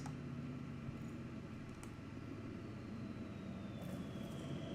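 Spaceship touching down on a planet in the game Elite Dangerous, a steady low engine rumble and hum lasting throughout, with faint brief clicks over the drone.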